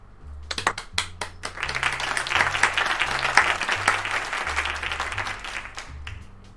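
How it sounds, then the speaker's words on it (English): Applause for a speaker at a Northeastern game dev club show, crisp clapping that swells quickly and holds steady while a low musical tone plays underneath, tapering near the end. "Let's give Cam one more round of applause here."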